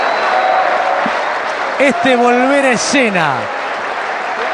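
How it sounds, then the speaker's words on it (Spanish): Crowd applause after a boxing exhibition between Matthysse and Barrios, a steady dense roar of clapping heard beneath an excited commentator speaking over it. "Levantan este aplauso, este reconocimiento"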